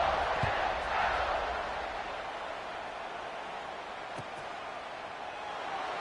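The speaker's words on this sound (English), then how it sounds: "this crowd is buzzing after that last score" A college football stadium crowd buzzing after a touchdown, a steady, broad roar of many voices in the distance, holding level throughout with a few faint thumps.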